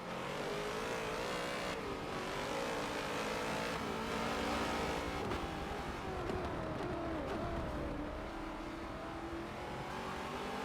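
V8 safety car circling Bathurst in a racing video game, its engine droning and revving with shifting pitch, steady and fairly close, with a brief tire squeal among the steady engine noise.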